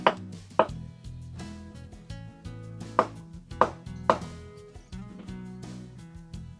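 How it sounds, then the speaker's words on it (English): A knife chops mushrooms on a board for a chicken casserole, giving a handful of sharp, separate thwacks at irregular intervals, close and clear over a quiet background. "Get those mushrooms cut."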